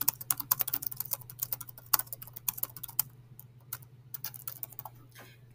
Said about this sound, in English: And then you're going to type your question right here.